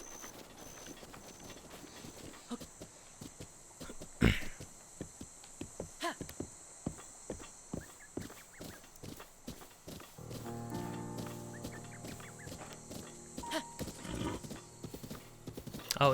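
Horse hooves in The Legend of Zelda: Breath of the Wild, a rapid, even clip-clop that builds into a gallop and gives sharp, close beats that carry on steadily over soft game ambience.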